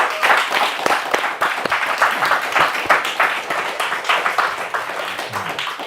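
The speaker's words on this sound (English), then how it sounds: "I'd appreciate it first if you can give them a round of applause" Clapping from an audience at a season awards ceremony, individual hand claps clearly audible in an uneven, lively patter that stays fairly loud and close throughout.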